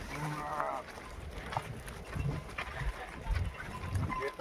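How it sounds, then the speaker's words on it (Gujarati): Sheep bleat nearby in short, wavering calls, mixed with faint outdoor noise and some people talking in the background, in a village in Kutch. "આ ઘેટા બકરા નથી, ઘેટા."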